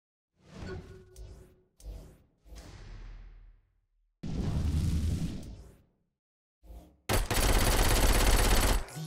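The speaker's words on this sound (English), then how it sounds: "Fire. Particularly flaming bullets." Flaming-bullet gunfire in Saints Row IV comes in loud close bursts separated by gaps, with whooshing fiery tails and a final sustained roaring volley.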